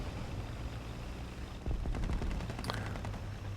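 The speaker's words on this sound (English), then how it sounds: "That's a nice firing sound for the Leopard." Cannon fire from a Leopard tank in War Thunder, a sharp burst of shots over a steady engine drone, fairly faint amid the battlefield noise.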